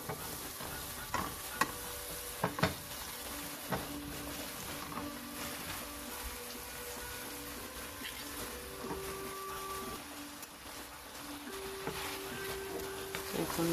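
Vegetables sizzling in a pan for chepa shutki curry (fermented dried fish) while a utensil stirs and scrapes them, a soft steady frying hiss with a few sharp clinks, faint and close.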